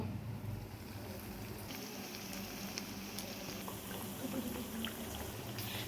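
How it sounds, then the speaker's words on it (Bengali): Chicken mince cutlets deep-frying in hot oil in a pan over a low flame, giving a steady, dense sizzle and bubbling hiss throughout with small crackles, close and even, with no talking. "এবার আমি এগুলোকে ভেজে নেব ডুবো তেলে।"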